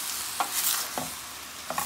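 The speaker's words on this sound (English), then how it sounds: "And then we will stir this up." A spoon stirs a teaspoon of salt into a pumpkin vegetarian dish with onion, garlic and green onion in a pot, giving three brief scraping strokes over a steady sizzle, close and without talk.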